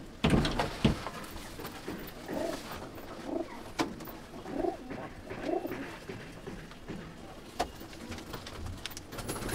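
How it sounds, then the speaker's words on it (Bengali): Pigeons in a loft coo repeatedly in low, soft rolling phrases at a moderate distance, with occasional wing flutters, knocks and sharp clicks around them, and no one speaking. "আগে যে পায়রাটা বন্ধুরা দেখালাম ওরই"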